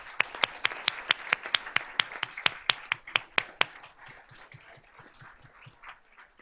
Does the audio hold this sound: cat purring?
no